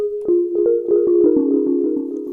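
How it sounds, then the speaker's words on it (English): Glass Drops synth preset in the DRC plugin, a bell-like pinging tone with reverb and delay, a short run of plucked notes ringing into one another, clear and alone. "It's called Glass Drops, and it sounds like this."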